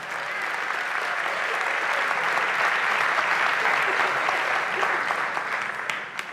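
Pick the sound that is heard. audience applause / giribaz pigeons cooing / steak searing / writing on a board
audience applause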